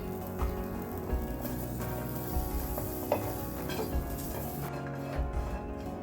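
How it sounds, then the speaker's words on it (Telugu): Cut coconut pieces dry roasting in a pan, with continuous close scraping and stirring against the metal over a faint sizzle, in irregular strokes throughout. "ఇందులో కట్ చేసుకున్న కోకోనట్ పీసెస్ కూడా డ్రై రోస్ట్ చేసుకోవాలి."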